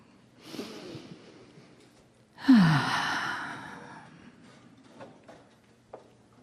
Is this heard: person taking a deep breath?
yes